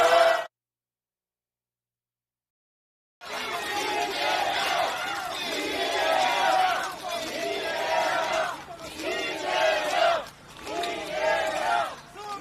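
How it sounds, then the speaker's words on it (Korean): A crowd at an outdoor political campaign rally in Songpa, Seoul, roars and cheers loudly with shouting and clapping, welcoming the Democratic Party leader; the noise rises after a brief silence and swells in waves. "환영의 큰 박수 부탁드립니다."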